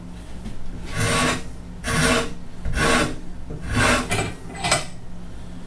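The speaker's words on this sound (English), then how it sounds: "this is a number 9 stitching modeling rasp" A No. 9 modeling rasp works along a wooden guitar neck in five slow, even strokes, each a loud, rough scraping pass separated by brief pauses, close and with no talking.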